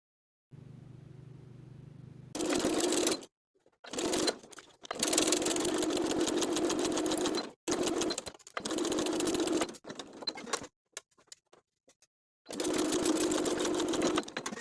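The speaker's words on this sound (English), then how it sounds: "We're going to be sewing along that original drawn line that we transferred in the beginning" A home sewing machine stitches a welt pocket on a belted dress along a drawn line in several close, loud bursts of rapid whirring, separated by short pauses and ending in a longer final run.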